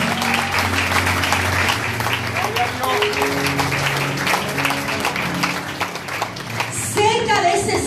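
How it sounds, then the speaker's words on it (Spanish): A church congregation claps and applauds steadily for several seconds, a dense sustained roar of hands under a preacher's amplified voice. "denle un aplauso al Señor,"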